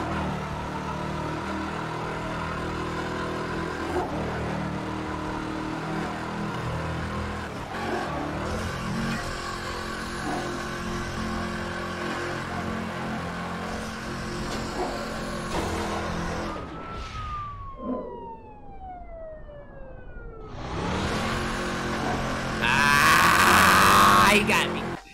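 Pagani Zonda supercar engine in the racing video game Midnight Club 3 DUB Edition Remix, a steady loud drone with revving and a falling pitch sweep near the end, under game music and someone talking over it.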